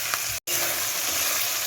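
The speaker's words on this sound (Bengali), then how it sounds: "এই দেখো আমার পেঁয়াজ ভাজা একদম রেডি" Onions with ginger and garlic frying in a pan, a steady close sizzle that runs throughout with one very brief dropout near the start.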